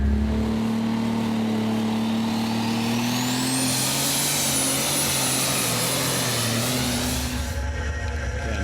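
Superstock pulling tractor Zappo roars through a full pull at a Eurocup tractor pulling event in Brande, Denmark, its engine loud and continuous with a rising whine that climbs and holds before cutting off near the end.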